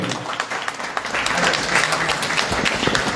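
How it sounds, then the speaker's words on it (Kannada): Audience clapping warmly in a hall at a Dasavani devotional singing program, a dense, steady burst of applause sustained for a few seconds. "ಜೋರಾದ ಚಪ್ಪಾಳೆ ಬರಲಿ."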